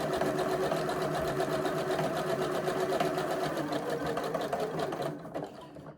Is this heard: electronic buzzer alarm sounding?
no